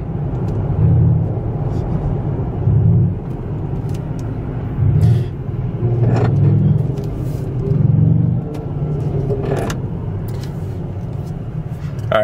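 A Mercedes-AMG GT53 heard from inside while driving: a low engine and exhaust rumble that swells in repeated surges, with sharp crackles and pops from the exhaust over the drone.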